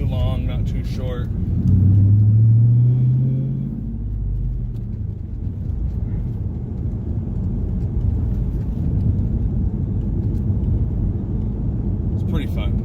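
A 1999 Chevrolet Camaro engine rumbles low while driving, swelling loudly early on as it revs through a gear shift and then settling into a steady drone, with brief voices at the start and end.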